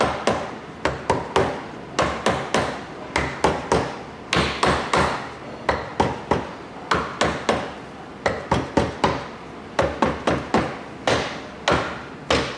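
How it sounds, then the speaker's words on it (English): Light, quick taps of a plastic hammer on a connecting rod cap of a Ford 302 small-block engine, coming in irregular clusters of sharp clicks at close range, with no talking over them. "grab a plastic hammer and very lightly, make sure it's clean too, and just tap the cap."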